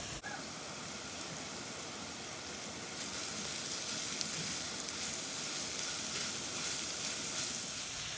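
Bitter gourd pieces fry in a pan with a dense, steady sizzle that grows slightly louder partway through, close and continuous, with no voices.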